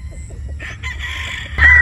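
A gamecock rooster of sweater and Boston bloodline crows close by in a short, loud call with clucking at the start and no talk.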